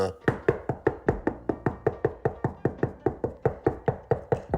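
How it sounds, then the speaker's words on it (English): Someone knocks on a door in a long, steady run of about twenty evenly spaced raps, each sharp and close, keeping up a brisk, unbroken rhythm. "Will you stop knocking on the door?"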